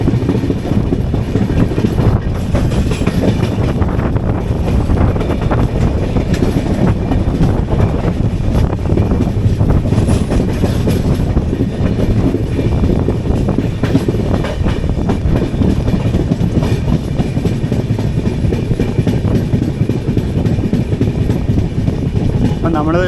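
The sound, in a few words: Kochuveli–Mumbai LTT Superfast Express train running on rails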